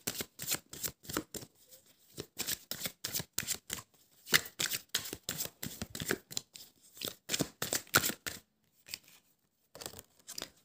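Tarot cards are shuffled and laid out in a quiet room, a rapid series of crisp riffling and slapping bursts with short pauses between, close and alone without talk.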